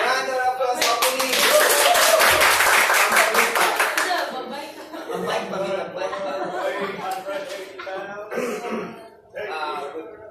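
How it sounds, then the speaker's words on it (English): A burst of audience clapping fills the opening seconds, then fades as people talk, cough and chuckle nearby. "Round of applause, opening."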